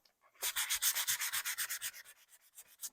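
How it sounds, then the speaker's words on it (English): Hand sanding on a wooden DIY guitar neck: after a brief quiet start, about fifteen rhythmic back-and-forth rubbing strokes, close and distinct, with no talking. "I'm going to continue sanding this."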